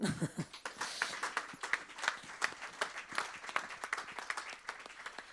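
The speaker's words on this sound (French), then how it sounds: "On peut l'applaudir." An audience at a conference applauds after a presentation, a dense patter of many hands clapping steadily for several seconds, moderately loud with no talking over it.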